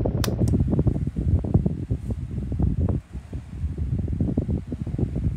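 A 12 inch oscillating desk fan running on medium without oscillation gives a steady close whooshing rush of air with fluttering buffets against the microphone, continuous and alone.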